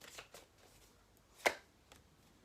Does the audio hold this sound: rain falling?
no